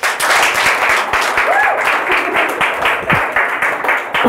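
Audience applause welcoming a speaker at a UX design startup talk, a dense, steady wash of many hands clapping throughout, loud and close, with no voices over it.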